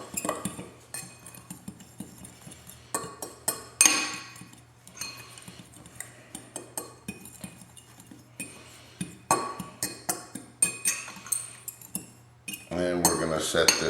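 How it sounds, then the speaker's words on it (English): A utensil mixes a cayenne seasoning blend in a bowl for Louisiana blackened catfish, giving a quick run of scraping, clinking strokes with brief pauses and a louder burst at the end. "And then we're going to give this a good mix."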